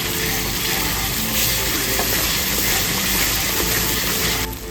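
Tomato added to hot masala in a pan for a Bengali katla fish curry, bursting into a loud, dense, continuous sizzle with stirring and scraping throughout, close up and alone.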